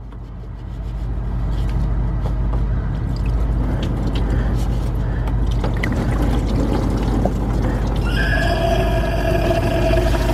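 Antifreeze drains out of a loosened hose on a 2002 Dodge Stratus 2.4 engine into a drain pan: a steady, close pouring and splashing wash over a low mechanical hum, with a brief tonal whine near the end.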